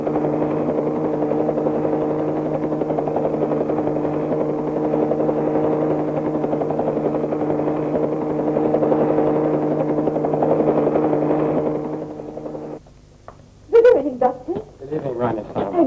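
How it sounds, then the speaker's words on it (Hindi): A helicopter arriving in a Bollywood film scene, a loud steady rotor thrum and whine for most of the clip that cuts off abruptly, followed by voices. "आ गए हेलीकॉप्टर, बड़े वक्त से आ गए ये लोग।"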